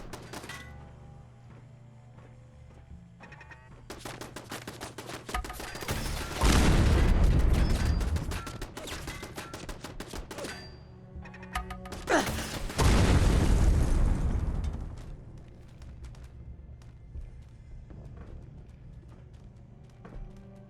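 Wall-mounted turrets in a video game firing, with rattling gunfire and two heavy booming explosion bursts about six seconds apart over a sparse background of clicks and thuds, fairly loud with no talking.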